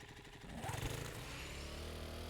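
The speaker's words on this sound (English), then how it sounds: "now you can listen to my tiny little butt of a motorbike" Small motorbike engine in the video game 7 Days to Die, a faint, buzzing mid-pitched drone with a short rev around the middle before settling into a steady hum.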